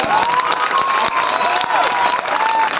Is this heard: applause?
yes